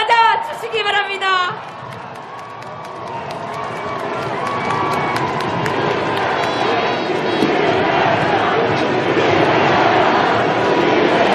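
A large crowd at an outdoor political rally for a presidential candidate in Cheonggye Plaza, Seoul, cheers and applauds in a loud, swelling, sustained roar that grows over several seconds after a voice on a public address system.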